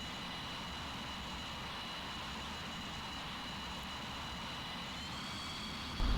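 A MiG-21's R11 jet engine drones steadily in the Strike Fighters 2 flight game, a constant loud whine and roar with a bump in level near the end.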